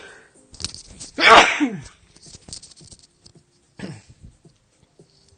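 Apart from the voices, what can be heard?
sneeze near the microphone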